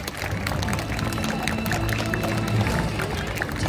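Audience applause at a 2022 multicultural festival in Seochang-dong, South Korea, a dense steady wash of clapping from a sizable crowd, continuous and fairly loud throughout.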